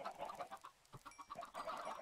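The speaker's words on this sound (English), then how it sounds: "there are so many chickens" Chickens clucking in Minecraft, with a quick run of soft, repeated clucks and chatters over a faint steady background, with no speech.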